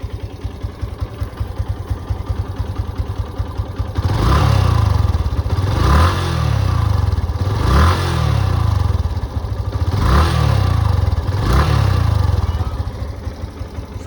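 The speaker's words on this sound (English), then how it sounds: "Let's start the bike. You can see the silencer sound." A Yamaha motorcycle engine starts and idles loudly up close, its exhaust silencer giving a steady low throbbing rumble with a few periodic surges in the beat.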